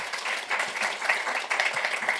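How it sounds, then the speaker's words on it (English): Conference audience at a climate and sustainability career expo applauds its speakers, a brief burst of dense, even clapping from many hands at moderate distance. "let's give one round of applause to our wonderful speakers"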